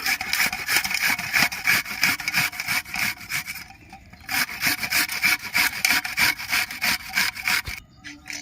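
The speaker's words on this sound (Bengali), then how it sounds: "পেঁয়াজ দুটো আমি ঘষে নিচ্ছি" Two onions are rubbed against a grater in a home kitchen as fish-roe fritter curry is prepared. Rhythmic, rasping back-and-forth strokes run nearly throughout, loud and close, with a short pause midway and another near the end.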